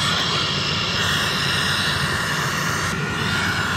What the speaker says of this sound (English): I think that's an Embraer 145